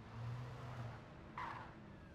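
A car drives along a road in the video game Alan Wake, its engine giving a steady low rumble throughout, with a brief brighter whoosh about halfway through; no one speaks.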